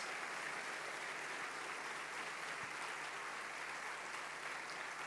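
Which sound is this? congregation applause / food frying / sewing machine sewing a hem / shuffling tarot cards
congregation applause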